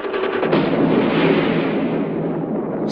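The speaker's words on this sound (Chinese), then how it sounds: "随着蘑菇云的腾空而起，中国第一颗原子弹爆炸成功" China's first atomic bomb test explosion at Lop Nur in 1964, heard as a loud, sustained deep roar and rumble that rolls on for several seconds with no talking.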